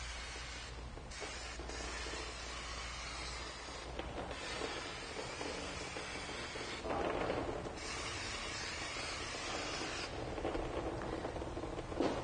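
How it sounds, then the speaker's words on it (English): Brake parts cleaner sprays hard onto the rear drum brake of a 2001-2005 Honda Civic in a steady broadband hiss, with several stronger bursts and brief pauses, close and alone without talk. "Now the first thing I'm going to do is just soak it down and clean it with some brake parts cleaner"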